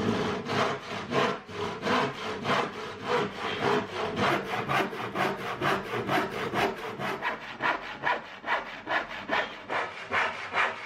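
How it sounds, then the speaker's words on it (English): A hand saw cuts through a long timber board supported by a clamp, giving steady, rhythmic back-and-forth rasping strokes. The strokes are close and loud, with no talk over them. "At the end of the cut, it will want to bind on the saw"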